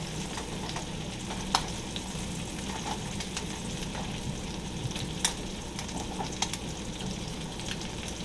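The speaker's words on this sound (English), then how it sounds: "Kind of sear in the juices." Pork tenderloin sears in a hot pan in its juices, a dense, continuous sizzle with scattered sharp pops and crackles, close and steady throughout.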